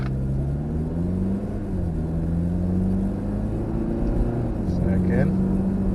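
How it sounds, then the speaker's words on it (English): A 2015 Hyundai Sonata SE accelerating, its engine drone rising steadily in pitch through the gears from inside the cabin, moderate and continuous with a soft shift dip. "what happens if you press the accelerator? The car is gonna go."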